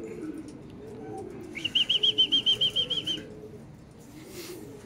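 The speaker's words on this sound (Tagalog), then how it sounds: "Ngayon lang nagdadating ang mga ibon natin." A pigeon arrives with a quick burst of about a dozen rhythmic wingbeats, close by, over a quiet outdoor background.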